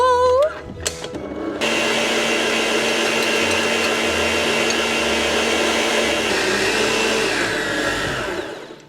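Electric stand mixer whipping a sugar mixture after roughly fifteen minutes of running, a loud steady whir that holds constant for most of the stretch after a brief clatter at the start, with no talking.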